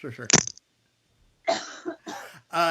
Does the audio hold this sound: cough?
yes